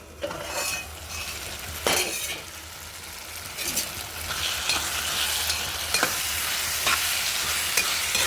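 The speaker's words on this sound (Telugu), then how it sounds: "కూర ఒకసారి తిప్పుకుందాం ఫ్రెండ్స్" Drumstick and tomato curry stirred in a pan, a spoon scraping and clinking against metal in repeated strokes over a soft, steady sizzle, close and moderately loud.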